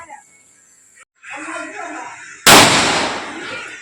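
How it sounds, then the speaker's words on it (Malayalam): A firecracker lit on paper bursts with one loud, sharp bang at a Vishu celebration, following a brief stretch of low background sound and rustling. "ഓനൊരു പേപ്പർ വെച്ചാണ്ട് കേട്ടോ സംഗതി പടക്കം പൊട്ടിക്കണത്"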